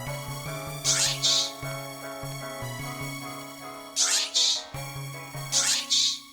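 An intro beat from MPC Live 2 song mode plays alone: sustained melodic tones and a low bassline, with bright percussive hits landing in repeating bursts, steady and fairly close, with no one talking.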